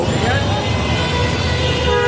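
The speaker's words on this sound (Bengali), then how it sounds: "এই হর্নটাই আরও জোরে জোরে বাজানো হয়" Vehicle horns toot at a busy Dhaka street junction, a sustained honking blended with loud, dense traffic noise and a steady background din.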